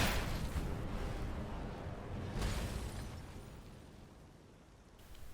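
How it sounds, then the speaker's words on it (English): Summoned Atronachs detonated by spells in modded Skyrim burst with two broad, roaring explosions, one at the outset and another midway, each trailing into a long fading rumble. "Once summoned, you can use your drawn spells to detonate these Atronachs."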